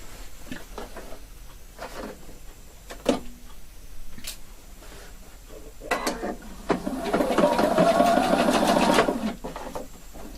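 A sewing machine stitches a tailored shirt collar with a stand, with a few scattered clicks and taps first, then a steady, rapid whirring run of stitching lasting several seconds.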